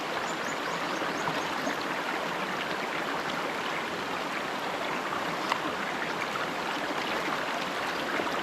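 A river flows steadily, a constant broad rush of moving water that fills the whole stretch without a break, close and fairly loud.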